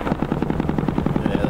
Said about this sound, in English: Their heavy cannons open up, making an unmistakable, deadly sound.